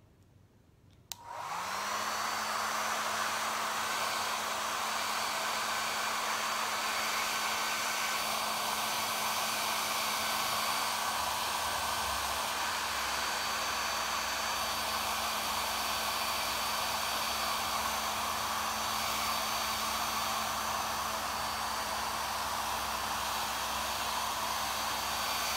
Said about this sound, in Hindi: मीडियम स्पीड पे रखें और हेयर ड्रायर को ब्लो करना है और अपोजिट डायरेक्शन में करना है